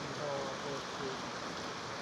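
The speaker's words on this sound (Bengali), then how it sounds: "টাপুর টুপুর করিয়া পড়ছে বৃষ্টি" Steady rain falls in a soft, even hiss with no distinct drops or breaks, fairly faint and unchanging throughout.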